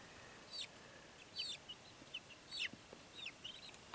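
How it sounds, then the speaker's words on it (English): Chicks in a snow-insulated off-grid brooder give short, high chirps and clucks in scattered bursts, fairly faint against a soft steady background hiss. "There's the birdies in there. All nice and happy."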